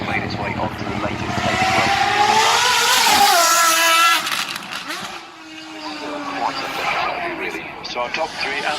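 Ferrari 599XX front-engine race car driving at the Goodwood Festival of Speed, a loud engine rising in pitch then dropping as it passes, with a commentator talking over it throughout.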